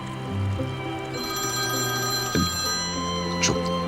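A telephone rings at night beside a pool with a bright, sustained electronic ringtone, its tones continuing steadily over a few seconds with small clicks, and no talk over it.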